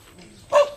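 Dogs barking on a residential street, a single short bark bursting out near the end over faint low background noise.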